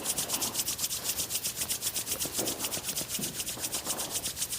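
A group of people rub their hands together in unison to imitate a rainstorm, producing a steady rhythmic swishing of fast, regular strokes, fairly close and without talk.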